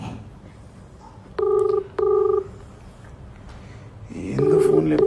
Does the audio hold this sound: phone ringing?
yes